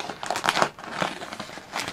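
Plastic packaging around a cushion crinkles and crackles as it is cut open with scissors, in close, irregular bursts of rustling.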